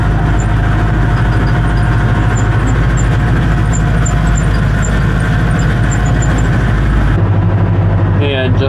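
Farm vehicle engine running loud and steady while hauling manure across a field, a constant close rumble with high squealing tones above it, ending with a cut and a short shift in the sound.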